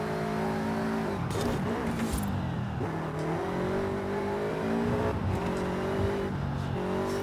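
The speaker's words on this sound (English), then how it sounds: "But my god, I do love driving this car." A car's engine hums and revs steadily while it is driven hard, its pitch rising and falling through gear changes for the whole stretch, loud and up close from inside, with no talking over it.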